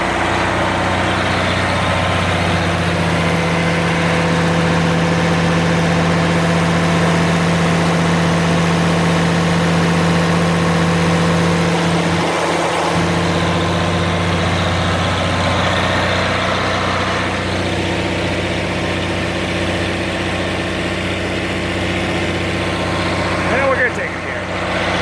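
An Oliver 1550 diesel tractor, with a fuel injector fault, idles close by in a steady low rumble that runs unbroken. A faint tonal whine sits above it for a stretch, and there are brief clunks near the end.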